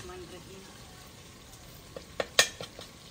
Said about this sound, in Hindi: इहदे च हुण भिंडियां पावांगी